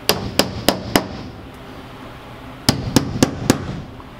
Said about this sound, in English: All I gotta do is find the hammer, just to tack it with.